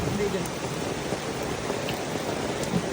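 Steady, dense rain hissing continuously, with faint voices mixed underneath.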